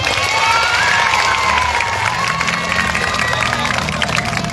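Schoolchildren and a crowd at a community gathering break into sustained applause and cheering, a dense wash of clapping and young voices that stays loud and even throughout.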